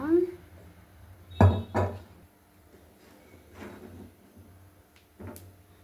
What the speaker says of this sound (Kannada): ಇವಾಗ ಪ್ಯಾನ್ ಇಟ್ಟಿದ್ದೀನಿ ಪ್ಯಾನ್ ಬಿಸಿ ಆಗೋಕ್ಕೆ